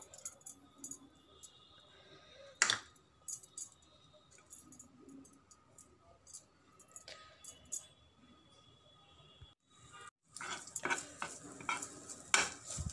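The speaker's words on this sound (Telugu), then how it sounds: "ఒక 2 స్పూన్లు నెయ్యి వేసుకొని ఈ బీట్రూట్ అంతా వేయించేసుకుందాం." Beetroot frying in ghee in a pan, stirred with a spoon that clatters and scrapes against the metal now and then, with a sharp knock partway through and busier scraping near the end.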